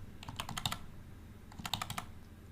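Two quick bursts of typing on a computer keyboard, each a rapid run of crisp key clicks, close and fairly quiet with a short pause between them.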